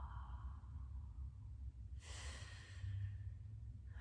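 Slow breathing during a guided somatic practice, with a soft exhale, then a brief airy inhale at about two seconds, close and quiet.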